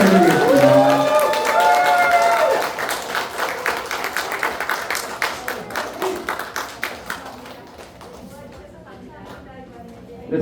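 A hall full of residents at a Namseong station-area redevelopment briefing breaks into loud, sustained applause with some cheering, the clapping thinning and fading over several seconds as a voice speaks over it.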